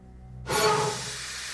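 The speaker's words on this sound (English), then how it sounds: "Sounds like steam escaping." Steam escaping aboard a ship after its engines stop: a sudden loud, steady broadband hiss bursts in and holds, alone without talk.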